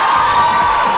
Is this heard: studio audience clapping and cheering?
yes